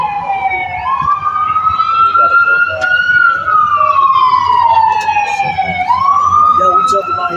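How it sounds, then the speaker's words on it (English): An ambulance siren passing on a Philadelphia street, a loud wailing tone sweeping slowly up and down in long cycles, close and dominant, with a voice faintly underneath. "we got the ambulance driving by"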